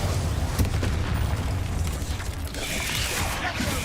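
A Bombarda explosion spell in Hogwarts Legacy erupts as a loud, dense boom amid continuous rumbling combat noise, with a brighter crackling burst toward the end.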